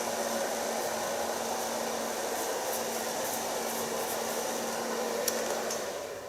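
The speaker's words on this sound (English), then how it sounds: "Now for so far blow drying." A hair dryer blows hair dry with a steady, close, loud whooshing hum that holds constant throughout, only tapering slightly at the end.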